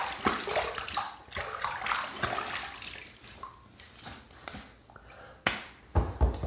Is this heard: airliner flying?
no